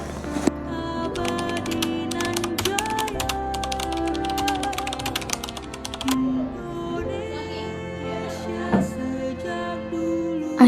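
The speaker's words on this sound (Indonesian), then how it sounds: "Soekarno menyuruh Sayuti Melik mengetik naskah proklamasi" Rapid, dense clacking of keys on a typewriter as proclamation text is typed, steady and close, with heavy mechanical strikes and a carriage clunk near the end.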